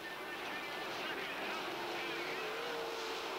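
Sprint cars racing on a dirt track during a 1985 A main event at the East Bay Winternationals, their engines merging into a steady, dense roar that holds without a break throughout.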